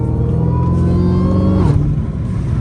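A Hellcat Redeye's engine rumbles loud and close in a street setting, a steady deep growl holding for a moment, then its pitch dipping as the revs drop, with no talking.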